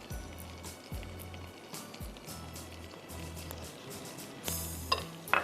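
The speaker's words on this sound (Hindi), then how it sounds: "हल्का सा गार्लिक फ्राई हो जाएगा" Crushed garlic fries in a pan, with a soft sizzle under repeated stirring and scraping strokes and a light clatter of utensil against pan near the end.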